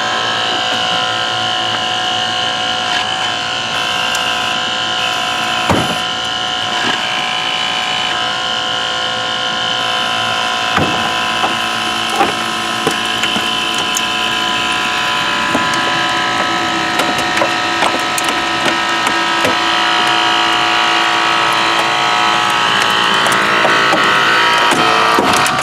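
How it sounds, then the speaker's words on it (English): A hydraulic extrication ram pushes on a car's pinch weld to lift the dashboard, giving a loud, continuous mechanical whine with intermittent sharp cracks and creaks of straining metal and plastic throughout. "there you got it, hydraulic ram dash lift"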